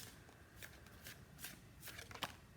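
Soft, quiet riffling of tarot cards being shuffled, a few brief papery bursts in quick succession with a faint background hum.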